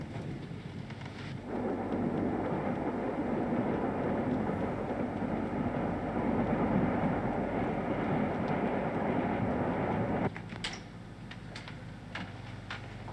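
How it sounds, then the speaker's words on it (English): A train runs in a TV thriller episode, a loud, steady rumble with a rattling texture that holds for about nine seconds, then drops away to a quieter background with a few faint clicks. "It's a train."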